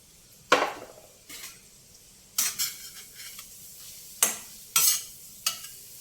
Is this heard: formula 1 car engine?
no